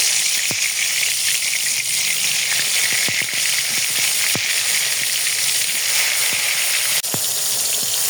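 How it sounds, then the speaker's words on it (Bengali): Spice-coated eggplant frying in hot oil in a wok gives a loud, continuous sizzle and hiss, with scattered sharp pops and crackles throughout. "দেখেন এই যে বেগুনটা মাখায় রাখছি, একদম মশলা ঢুকে গেছে। দেখেন এটা ভেজে নেবে।"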